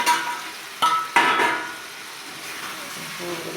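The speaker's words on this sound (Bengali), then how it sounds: "আর একটু নেড়ে নেবো ভালো করে।" Meat frying in a pan as it is stirred, a soft sizzle broken by a couple of sharp scraping and knocking strokes of a utensil against the pan.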